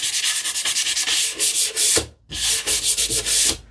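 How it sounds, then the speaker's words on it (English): Hand sanding on a wooden drawer pull: steady rhythmic scratchy strokes, close and loud, with a brief pause partway before the rubbing resumes. "little bit of sanding so that I still see the pencil lines, which is good."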